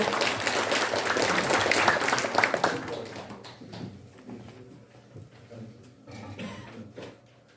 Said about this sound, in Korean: 유미정 박사님께 다시 한번 박수 부탁드립니다